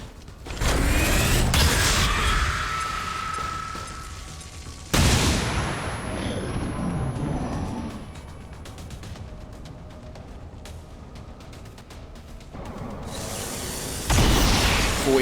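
In the XCOM 2 video game, a flashbang grenade and gunfire go off as loud bursts of blasts and shots with mechanical clatter, quieting in between before another burst near the end.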